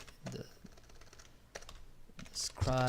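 Typing on a computer keyboard, a handful of scattered soft key clicks in quick bursts, ending as a voice starts speaking over them.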